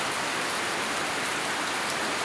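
Heavy rain pours down in a dense, steady hiss, close and loud, with no breaks or voices over the whole stretch.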